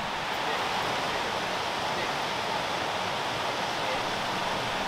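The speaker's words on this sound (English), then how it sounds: "I happened to hear rushing water while driving by it" A woodland stream in spring rushes past in a dense, unbroken roar, loud and close, with no voices over the steady churn of water.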